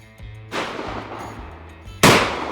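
Two loud shotgun blasts at a clay shooting ground, the second sharper and closer, each with a long rolling decay, over a faint steady low hum.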